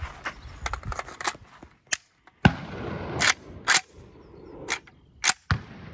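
Gunshots ring out as a firearm test-fires rounds: several sharp, loud reports at irregular intervals with quieter mechanical handling sounds between them.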